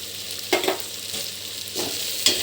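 Mutton biryani masala frying in a pan, a soft steady sizzle with a few scraping stirs of a spoon, close and quiet.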